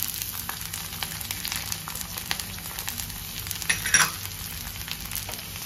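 Vegetables—green beans, capsicum and carrot—sizzle and fry steadily in a hot pan over medium heat for garlic Schezwan fried rice, a continuous close crackle with a brief louder stir near the end.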